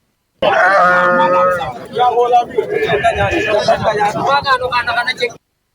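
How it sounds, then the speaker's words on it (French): A noisy sheep market in Sandiara, Senegal, with bleating animals mixed into a dense crowd babble, loud and close, while a voice talks over the commotion. "Le marché de moutons de Sandiara a toujours été bruyant, mais ces jours-ci, l'animation est à son paroxysme."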